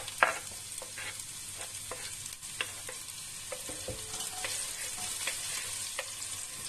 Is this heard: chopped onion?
yes